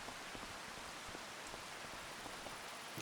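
Rain falls steadily in Farming Simulator 25, a soft, even hiss with faint scattered droplet ticks, quiet and continuous with no voices.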